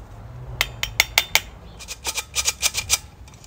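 A squeeze-handle flour sifter turns flour for pancakes, giving a quick run of sharp metallic clicks, then a second denser burst after a short pause, close and crisp with no talking.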